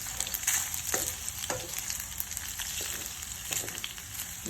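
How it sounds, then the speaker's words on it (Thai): Macaroni tossed with tomato sauce in a frying pan, with a steady close sizzle and repeated scraping strokes of a spatula stirring through the noodles, no voices. "แล้วก็จะมา คนให้เข้ากัน ให้เข้ากันเลย"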